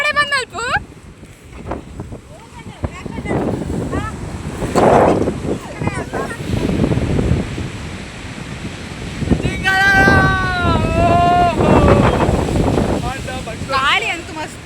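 Strong wind blows at a beach with crashing surf, rushing and buffeting the microphone loudly throughout as people talk and laugh over it.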